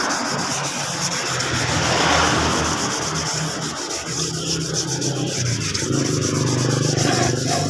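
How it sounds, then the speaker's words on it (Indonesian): A faded Honda Supra motorcycle body panel is sanded smooth with continuous, loud, gritty scraping strokes close by, forming a steady rasp with no talking. "Ini kita habiskan, kita gosok sampai benar-benar halus."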